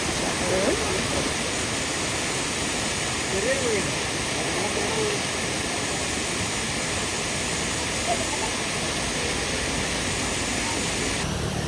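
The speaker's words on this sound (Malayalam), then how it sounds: "അവിടുന്ന് കാണുന്ന ഒരു വെള്ളച്ചാട്ടമാണ് ദേ എൻ്റെ പുറകിലുള്ളത്" Roadside waterfall seen after visiting an Ardhanareeswara temple: a steady, broad rushing roar fills the whole stretch, with faint voices briefly underneath.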